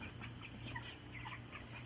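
Chickens cluck softly in a coop, several short, scattered clucks over a faint steady background hum, quiet and somewhat distant.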